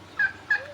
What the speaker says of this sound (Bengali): টাস্কি মুরগি আছে, টাস্কি মুরগি বড় বড় চল মুরগির